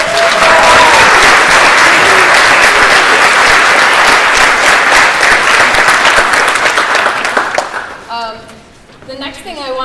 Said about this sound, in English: Can you give these ladies a round of applause?